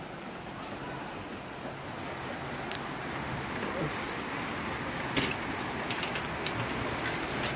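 Steady rainfall fills the scene with a dense, even hiss, broken by occasional sharper drops landing nearby.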